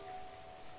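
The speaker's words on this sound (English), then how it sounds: "Oh, look, it's raining." Steady rainfall in the video game The Legend of Zelda: Breath of the Wild, a soft continuous hiss of rain on the ground throughout, with no talk.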